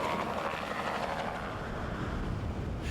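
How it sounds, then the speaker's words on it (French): A police helicopter flies with a continuous, loud rotor and engine roar, steady and broadband throughout, with no voices over it. "L'hélicoptère est généralement le premier sur les lieux."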